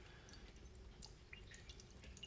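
Soft, steady dribbling and dripping of water, faint and close, with scattered small drops falling over a couple of seconds.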